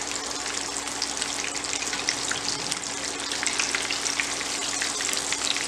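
Cheese exotica fingers sizzling in hot refined oil on an induction cooktop, a loud continuous crackling fry with popping spits throughout, no voice.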